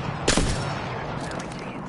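A sudden burst of video game gunfire, a sharp loud volley of shots followed by lingering rumble and scattered distant reports.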